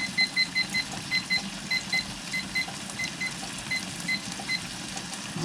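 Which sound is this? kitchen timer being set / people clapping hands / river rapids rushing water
kitchen timer being set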